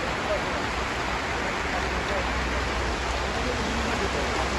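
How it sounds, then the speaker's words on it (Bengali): Heavy rain pours down steadily over an open cattle market in Gabtoli, a dense, even wash of falling water holding at the same level throughout with no break. "প্রচন্ড বৃষ্টি গাবতলি হাটে"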